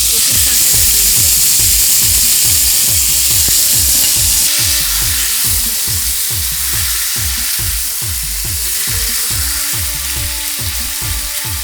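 Taro leaves hit a hot oiled pan after dried red chillies were tempered, giving a loud, steady sizzle and hiss that fills the whole stretch, with repeated soft stirring scrapes throughout and no talk.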